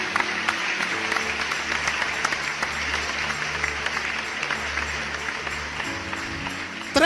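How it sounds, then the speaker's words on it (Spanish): Congregation applauding during a church sermon, dense sustained clapping from a large crowd filling the room, steady throughout with a faint low hum underneath and no talk. "Yo creo que eso merece un aplauso."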